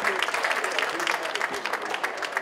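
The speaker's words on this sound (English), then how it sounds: "How about another round of applause for both teams?" A crowd at The Villages Polo Club applauds both teams after a polo match, with dense, continuous clapping at close range and some voices mixed in.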